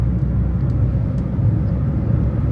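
The petrol engine of a 2013 Maruti Swift hatchback rumbles as the car is driven hard, a loud, steady in-cabin drone without pauses.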